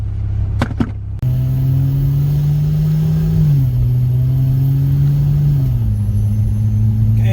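A Valkyrie car's engine hums loudly and steadily in third gear at about 24 mph, its pitch stepping up and then settling as it accelerates, with a brief click at the start.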